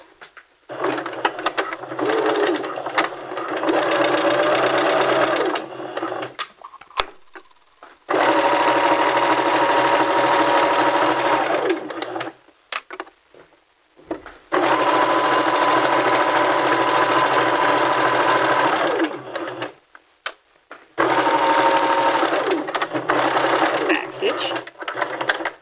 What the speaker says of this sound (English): we're going to do a narrow zigzag stitch from one end to the other